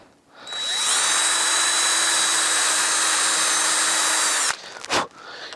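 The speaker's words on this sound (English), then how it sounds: "To do the dowels on the rudder, I just use the right size drill bit." A power drill with a bit bores dowel holes into the rudder of a Piper Archer model airplane, spinning up, whining steadily for several seconds close by, then stopping abruptly, followed by a short clatter.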